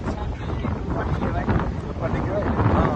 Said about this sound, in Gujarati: ફૂલ મસ્ત ઠંડી ઠંડી હવા આવે